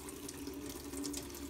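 Tap water runs through a disassembled airbrush gun during cleaning, a brief, steady hiss of flowing water with a faint low hum underneath.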